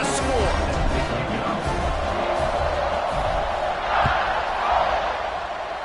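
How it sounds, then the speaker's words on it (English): A stadium crowd murmurs and buzzes continuously in a college football video game, Alabama versus Florida State, after a touchdown, a broad steady roar with a commentator talking over it. "this crowd is buzzing after that last score"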